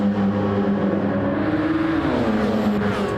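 LMP1 2016 Porsche prototype race cars lap in a sim race, a steady high engine drone with shifting pitch as the cars accelerate and brake, continuous and fairly close.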